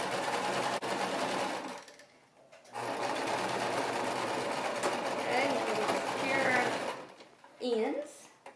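A home sewing machine runs steady bursts while stitching and backstitching a seam on a baby romper, whirring loudly with brief pauses between runs, then a softer stretch and handling at the end.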